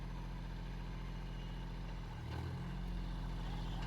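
A small John Deere tractor engine runs steadily under light load after the clutch is released, a constant low rumbling drone with a slight surge partway through, fairly distant and quiet.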